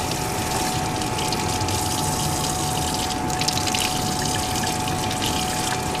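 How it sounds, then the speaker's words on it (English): Hot water runs steadily over a beer keg part as it is rinsed, a continuous close rushing and splashing stream with no pauses. "And then just rinse it with hot water all the way around."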